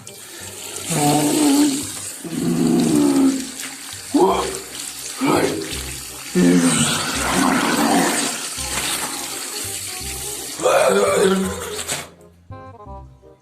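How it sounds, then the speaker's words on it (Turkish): Tap water runs steadily into a bathroom sink while hair is washed under it, a loud continuous rush with changing splashes and rumbles, then it cuts off abruptly near the end. "Ben de kafamı yıkayayım ya."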